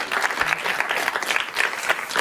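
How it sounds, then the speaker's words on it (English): An audience claps enthusiastically, dense steady applause from a crowd lasting a couple of seconds. "Let's give them a round of applause."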